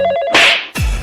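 A telephone ringing in a brief, loud electronic burst: a steady tonal ring, then a harsh noisy blast and a falling sweep that sound cut off or distorted, with no voices.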